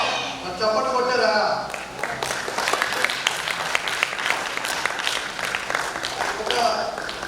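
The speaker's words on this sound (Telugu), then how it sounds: "చప్పట్లు కొట్టారా?" An audience at a dance festival applauds after a dance performance, a dense, steady wash of many hands clapping that lasts throughout, with voices talking over it.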